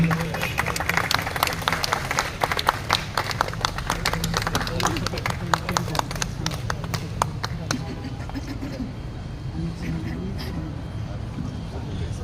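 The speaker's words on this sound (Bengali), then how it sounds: "তাদেরকে অভিনন্দন জানাচ্ছি আমরা সকলে করতালির মাধ্যমে।" An audience applauds at a prize-giving ceremony for an annual sports competition, with dense, sustained clapping for several seconds before it thins and fades into quieter room murmur.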